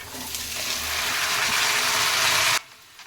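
Washed potato pieces drop into hot oil in a pan for potato sabji and set off a loud, close, hissing sizzle that holds steady for a few seconds, then cuts out sharply.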